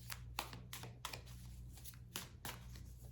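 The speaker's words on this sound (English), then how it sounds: "I'm shuffling the tarot." Tarot cards being shuffled by hand, a series of about eight quick papery riffles and slaps in an uneven rhythm, close and fairly soft against a low steady hum.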